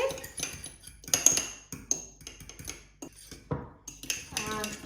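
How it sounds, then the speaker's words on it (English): A utensil clinks and scrapes against a bowl while eggs are whisked with milk, butter and salt, irregular close-up taps and chinks at varying loudness, ending in a faster rattling whisk. "And then you give them a good mixing."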